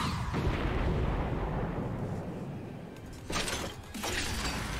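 Space gun firing in No More Heroes III: a sustained, loud, roaring blast fills the clip, with two brief sharper surges near the end and no talk.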